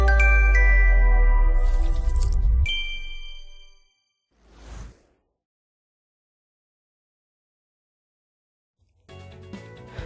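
A notification bell sound effect for subscribing rings out with bright metallic chimes, followed by a short softer swish, a long silence, and then another faint chime at the end.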